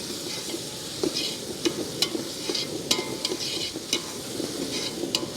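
A spoon stirs ginger-garlic paste with onion and tomato as they sauté for chicken dum biryani. Oil sizzles steadily and the spoon scrapes and taps the pan at irregular intervals, close and clear, with no voices.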